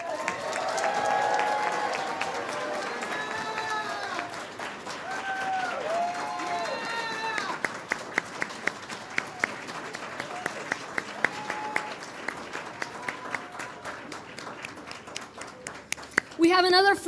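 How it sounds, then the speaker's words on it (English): An audience at a Congressional Hispanic Caucus event in Houston applauds Congresswoman Sylvia Garcia, a broad wash of clapping and crowd noise under an amplified voice that carries on over it, with sharp individual claps standing out near the end. "So please give a round of applause to our Congresswoman"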